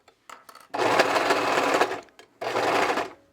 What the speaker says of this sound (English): I'm just gonna sew these down.